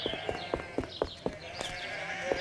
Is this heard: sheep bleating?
yes